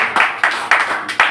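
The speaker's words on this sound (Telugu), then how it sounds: "గట్టి చప్పట్లు పట్టిన ఒకసారి." A church congregation claps loudly in a Sunday service, several sharp, evenly spaced bursts of clapping close by with no talk over them.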